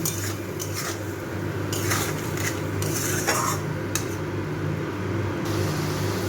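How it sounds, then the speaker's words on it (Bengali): Spice paste being stirred and fried in a metal pan while cooking a Bengali sola kochu (taro) dish, with repeated scraping and clinking of a utensil against the pan over a low sizzle, close and steady with no talking. "মশলাটাকে একটু ভালো করে 2-3 মিনিট ধরে কষিয়ে নেব"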